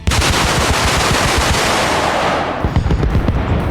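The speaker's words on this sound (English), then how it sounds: "I just used all my missiles in one go." Attack helicopter in the video game Arma Reforger dumping its whole missile load in one salvo: a dense, loud rapid burst of launches and blasts for about two and a half seconds, then scattered explosions trailing off.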